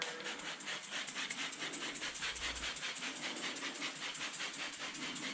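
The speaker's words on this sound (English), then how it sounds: "just spritz the whole window down." A ZEP high output chemical sprayer spritzes a window, giving a fast run of rhythmic hissy squirts, one after another in a steady pulse, close and continuous with no voices.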